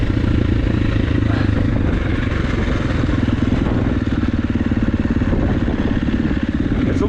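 A KTM 350 SX-F dirt bike engine runs continuously during break-in, a loud, close, even mechanical drone with a rapid rattling pulse.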